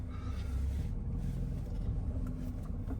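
A drift car's engine rumbles low and steady while backing up in reverse at a drift event, a continuous close, deep drone with no talking.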